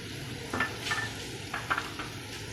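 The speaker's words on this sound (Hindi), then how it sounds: "1 मिनट तक शिमला मिर्च को सौते करेंगे।" Capsicum sautés in a pan with a quiet, steady sizzle, punctuated by a few brief stirring scrapes and clinks of a utensil against the pan.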